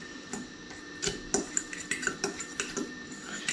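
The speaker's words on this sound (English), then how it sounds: "Then take a fork and you get all these clumps out." A fork whisks egg and Parmesan in a bowl, making quick, irregular clinks and scrapes against the sides, close and fairly quiet, with no talking.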